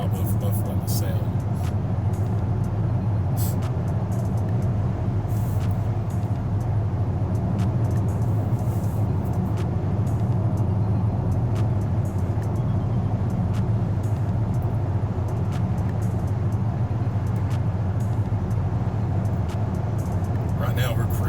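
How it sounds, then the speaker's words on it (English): Steady road noise fills the cabin of a 2023 Land Rover Defender 110 cruising at about 62 mph on the highway. A constant low hum and tire rumble runs throughout, with a faint voice talking now and then. "A little bit more road noise on the highway, which is to be expected"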